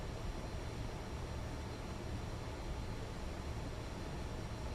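A Fokker F28 airliner taxiing in Microsoft Flight Simulator 2024 gives a steady, fairly quiet broadband engine rumble and hiss, constant throughout with no talk.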